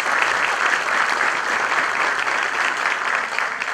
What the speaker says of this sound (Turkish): Alkışlarınızla Sakarya Büyükşehir Belediye Başkanımız Sayın Ekrem Yüce'yi davet ediyorum